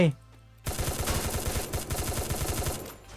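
Rapid automatic gunfire in Free Fire: a sudden burst of about twenty evenly spaced loud shots after a short quiet opening, close and sustained for over two seconds.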